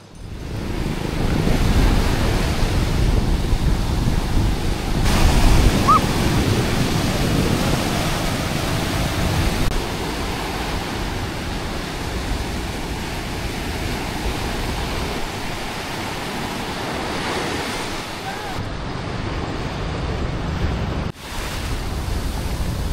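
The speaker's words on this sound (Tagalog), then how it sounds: "Water." Ocean waves wash onto the beach at Liwliwa, Zambales, a continuous loud roar of surf mixed with gusty wind buffeting the microphone, with no one talking over it.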